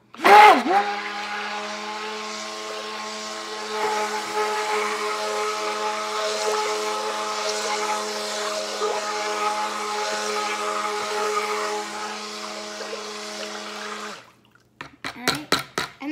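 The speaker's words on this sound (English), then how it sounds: "I'm gonna mix up, and this is the part that will be a little loud." A loud mixer blending soap base runs with a steady whining motor hum for about fourteen seconds, then cuts off, followed by a few close knocks and clatters.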